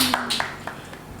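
A small group at a school gathering claps hands in a short, quick burst of a few sharp claps, fairly close, with a voice briefly audible.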